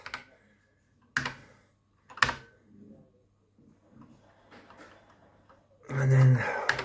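A BBC Micro computer keyboard is typed on in a few short separate bursts of clicking keys, with quiet gaps between them and a louder burst near the end; someone talks faintly in between.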